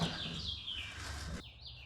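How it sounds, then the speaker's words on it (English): Several birds chirp and twitter outdoors in overlapping high calls, fairly close, over a steady background hiss, with the chatter thinning near the end; no one speaks. "Lots of birds today."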